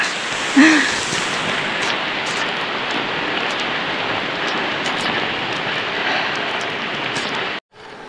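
Heavy rain pours steadily throughout during a gravel bike race, a dense, even hiss close to the microphone with no speech, cutting off abruptly just before the end.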